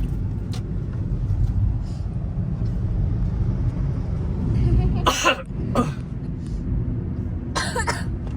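A couple of sharp coughs stand out over a steady low rumble of city traffic in Cebu, one near the middle and another toward the end.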